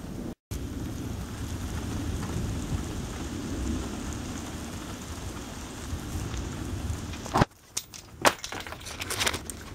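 Rain falls steadily outside, a continuous soft hiss close to the microphone, ending in a few sharp knocks and handling noises near the end.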